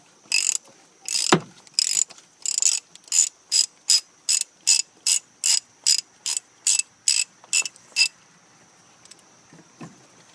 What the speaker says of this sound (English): I'm going to use my 36mm socket and just turn it counterclockwise and remove the cap